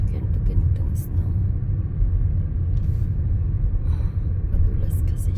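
A car creeps slowly along a snowy road in Korea, giving a steady, low engine and road rumble heard from inside, continuous and fairly loud throughout.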